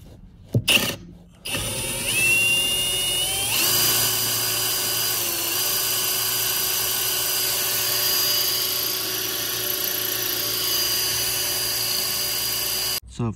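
A power drill bores into a snapped bolt stuck in a car's suspension part, running as a steady, loud high-pitched whine with a brief start-and-stop burst before the sustained drilling.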